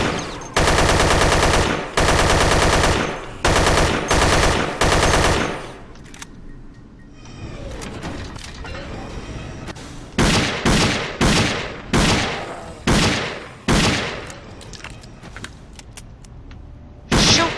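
Rapid automatic gunfire in the video game Dead Effect, loud and close, in long sustained bursts at first, then a string of shorter repeated volleys separated by brief quieter stretches.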